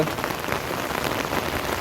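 Heavy monsoon rain pours down steadily in Dombivli, a dense, loud and unbroken hiss of drops striking surfaces nearby, with no voices.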